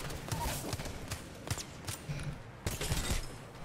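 Gunfire in the video game Apex Legends: several sharp shot bursts crack out in quick succession over a busy, noisy game mix, with faint chatter in the background.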